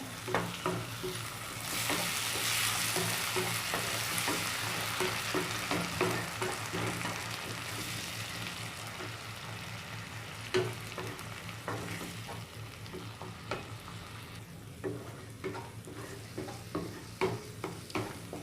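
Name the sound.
tomato paste sautéing in pan for egg curry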